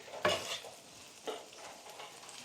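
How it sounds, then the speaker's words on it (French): A spoon stirs and mixes seasoned food with salt and pepper in a kitchen, giving a sharp scrape followed by softer stirring strokes, faint and close, with no talking. "On commence à mélanger"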